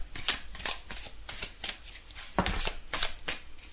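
Tarot cards are shuffled and drawn by hand close up, a run of crisp riffling bursts and soft slaps in a quiet room, with no talk.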